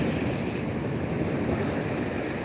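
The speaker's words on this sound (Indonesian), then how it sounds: "Ini ombaknya juga kuat nih." Strong sea waves wash in at Ulee Lheue harbour in Banda Aceh, a continuous broad surf roar mixed with wind buffeting the microphone, steady and fairly loud with no speech.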